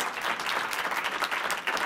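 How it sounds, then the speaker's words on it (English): Audience applause at a scholarship event, a dense, steady burst of many hands clapping close by that fills the whole moment with no talk. "please clap it up for Michelle Howard."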